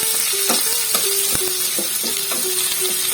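Curry leaves and turmeric sizzle steadily in hot oil, a dense continuous crackle with sharp pops and a spoon clinking against the pan every half second or so, close and fairly loud with no talking.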